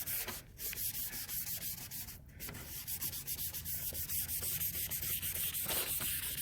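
Fine 800 to 1,000 grit sandpaper rubs across a car headlight lens in quick, repeated back-and-forth strokes, a close, rhythmic scratchy hiss with short pauses between passes.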